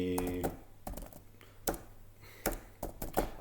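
Someone types on a computer keyboard while coding in Python, a faint, uneven run of close key clicks in small clusters with brief pauses.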